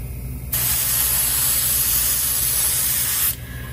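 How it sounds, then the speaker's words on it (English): An airbrush sprays paint onto a custom trout net in a steady, loud hiss that starts abruptly, runs for about three seconds, then cuts off. "Gravity and the pressure of the airbrush is going to help press this against it once you start spraying"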